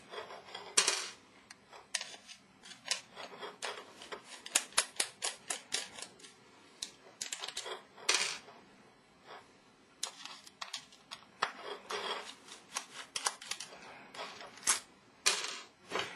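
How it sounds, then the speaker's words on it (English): Screws being removed from the drive assembly of a Halo, heard as faint, scattered metallic clicks and taps with quiet pauses between them. "all you have to do is take these 3 screws out."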